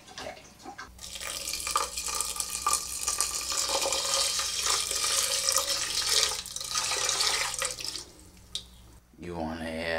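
Rice being rinsed under a running kitchen tap, a steady close hiss of water splashing into a sink that lasts several seconds and then stops abruptly, with faint talk around it.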